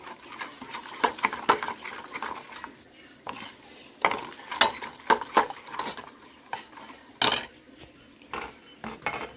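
A spoon or whisk repeatedly knocks and scrapes in a bowl while gram flour batter spiced with turmeric, salt and red chilli powder is mixed for bread pakoda, with irregular clinks close by and brief pauses.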